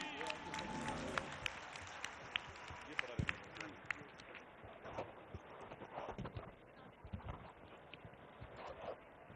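Students applauding at a scholarship and laptop ceremony in Lodhran, a long stretch of steady crowd clapping that tapers off, with a voice speaking through it.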